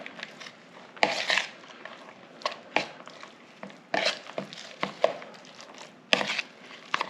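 A mixing spoon stirs pimento cheese with mayonnaise in a bowl, thick scraping strokes with sharp knocks against the bowl at irregular intervals, close and moderately loud.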